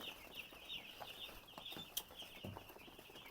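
Broiler chickens on a poultry farm cluck faintly and intermittently through a steady high-pitched background hiss, with scattered scratches and one brief sharp knock.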